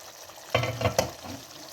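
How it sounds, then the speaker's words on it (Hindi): Potatoes and fenugreek leaves sizzle while being sautéed in a pan for aloo methi, with a short burst of frying and a couple of stirring scrapes close by, then a soft, steady hiss. "इसको भून रही हूँ, अभी ये गले नहीं है।"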